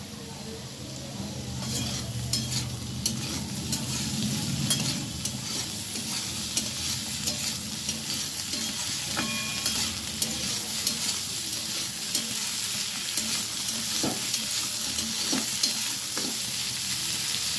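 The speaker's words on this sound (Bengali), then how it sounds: "আমি এবারে আলুগুলো দিয়ে দিচ্ছি।" Potatoes being stir-fried in a pan make a continuous loud sizzle, with frequent scraping and clacking of a spatula against the pan repeating all the way through.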